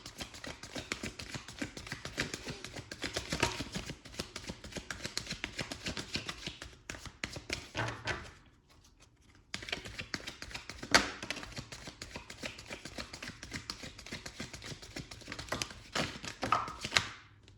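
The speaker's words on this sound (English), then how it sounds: "So I'm going to shuffle again so I can get just one or two clarifying cards." Tarot cards are shuffled by hand for a long stretch in dense, rapid flutters and taps, close by, with one brief pause partway through before the shuffling resumes; no voices.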